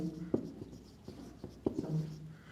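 Chalk or marker taps and scratches out an equation on a classroom board during a complex analysis lecture, a few short strokes in quick succession, fairly faint and without talk.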